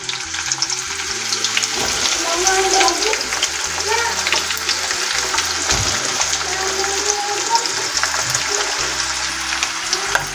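Chopped onions hit hot tempering oil holding mustard seeds, curry leaves and dried red chillies, sizzling loudly and crackling unevenly throughout, with scraping stirs, close and continuous.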